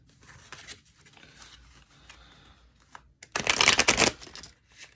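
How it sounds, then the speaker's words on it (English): A stiff new deck of cards is riffled and shuffled, with soft flicking at first and then a loud, crisp ripple of cards near the listener. "This deck is still really stiff. It's still a new deck. It's a bit difficult to shuffle."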